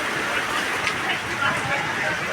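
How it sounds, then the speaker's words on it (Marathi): Heavy rain pours down steadily on a village fair in Jevali, a dense, continuous hiss with no break, while people talk faintly beneath the downpour. "बघू शकता यात्रेमध्ये कशा मुसळधार पाऊस पडत आहे"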